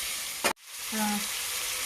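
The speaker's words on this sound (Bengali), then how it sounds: "আমড়াটা আস্তে আস্তে ভাজা হতে থাকবে, এরকম ভাজা হতে থাকবে।" Ripe hog plum (amra) frying in plenty of oil in a pan, a steady close sizzle with a brief louder burst and a quick drop, then the frying hiss resumes alone.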